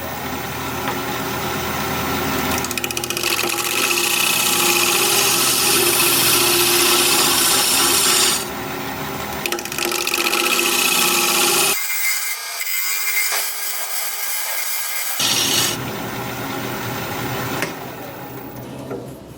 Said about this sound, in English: I think I'll just apply my scraper to it and see if we can clean it up a little bit.